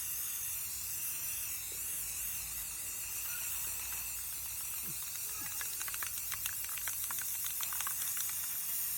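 A spray paint can hisses in long steady bursts while coating a door, close and continuous, with a rattling clatter of the can toward the end.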